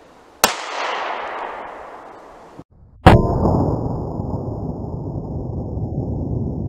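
A 9mm handgun fires during a ballistics test: two sharp, loud shots about two and a half seconds apart, the first with a fading ring and the second followed by a sustained rumbling tail.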